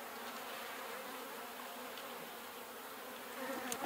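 Honey bees buzz in a dense, steady hum from a horizontal beehive opened for inspection, faint and continuous with no voices.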